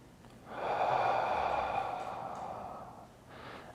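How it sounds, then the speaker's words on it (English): A slow, deep breath taken while holding a hip flexor contraction: a long, close, breathy exhale swells and then fades, followed by a softer breath near the end. "you hold that contraction with a slow 360 breath"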